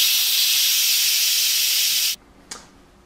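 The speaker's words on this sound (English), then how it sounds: "I'm going to turn the steam release handle to release the pressure now" An Instant Pot DUO Plus pressure cooker vents through its steam release handle with a loud, steady hiss that cuts off abruptly after about two seconds, followed by one brief faint puff.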